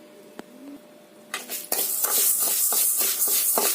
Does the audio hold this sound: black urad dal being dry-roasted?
yes